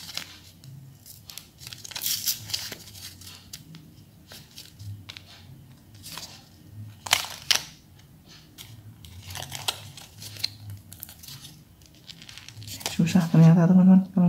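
Battery packaging being torn open by hand without scissors, for swapping the battery in a Toyota Avanza car remote: bursts of ripping and crinkling plastic in short irregular spurts, close up, with a person talking between them.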